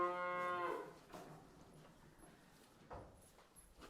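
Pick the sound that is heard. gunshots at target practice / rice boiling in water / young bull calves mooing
young bull calves mooing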